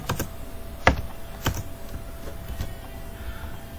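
Keys clack on a computer keyboard as code is typed, a few scattered keystrokes over a faint steady hum, close and without speech.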